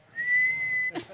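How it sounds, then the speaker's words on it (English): A person whistles one steady, sustained note, loud and close, ending abruptly with a short breathy burst. "I'll just look and whistle."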